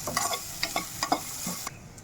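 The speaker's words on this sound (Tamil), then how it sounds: "இது கூடவே நான் ஒரு கைப்பிடி அளவு துருவின தேங்காய் சேர்த்துக்கிறேன். இப்போ இதையும் சேர்த்துட்டு ஒரு 30 செகண்ட் வதக்கிக்கலாம்." Grated coconut sautés in a pan for a mutton curry masala, with soft sizzling under repeated scraping stirs from a spoon, close and fairly quiet, then the sizzle fades near the end.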